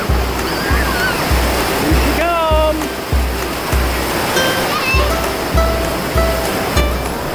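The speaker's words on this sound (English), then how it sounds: "Ooh, this is a big wave." Big ocean wave crashing while surfing in a children's PJ Masks and Paw Patrol game, a loud continuous surf roar with rhythmic low thumps and bright splashy tones, filling the scene with no talk.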